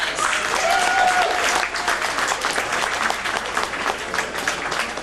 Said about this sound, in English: Let's give our actors a big round of applause.